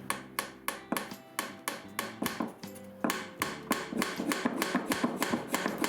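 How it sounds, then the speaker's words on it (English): A glued nail is tapped into place on a flood-and-drain hydroponic system build. Many sharp, evenly spaced taps come quickly and close by, growing steadier and slightly faster toward the end. "tap the nail in place"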